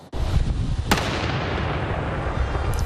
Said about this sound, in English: each explosion bigger and louder than the last.